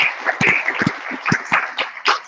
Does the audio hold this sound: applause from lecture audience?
yes